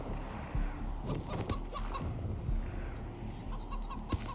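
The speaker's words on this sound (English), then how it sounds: "Wonder if we can charm a chicken." A chicken in the video game Wasteland 3 clucks repeatedly in short bursts over a busy game ambience, fairly close and moderately loud.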